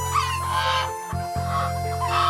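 Chickens cluck and call close by in a busy coop, with steady low background hum and overlapping bird voices throughout.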